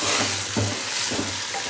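Beef with ginger and garlic frying and being stirred in a pan gives a steady close sizzle broken by a few stirring scrapes, with no voices.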